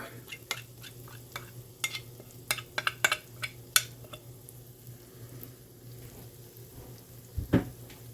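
Cornbread batter sizzles softly in a hot pan under faint background hum, with scattered sharp clicks and one louder scrape near the end.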